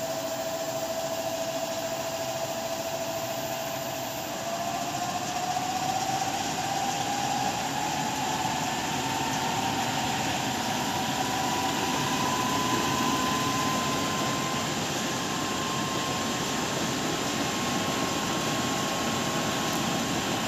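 A motor-driven permanent magnet generator charging a 36-volt battery gradually picks up speed, a continuous close mechanical whir with a rising tonal whine that climbs steadily, then holds.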